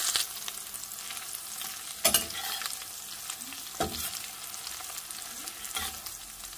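Green and red chillies fry in a pan with a steady, quiet sizzle, broken by a few louder stirring scrapes.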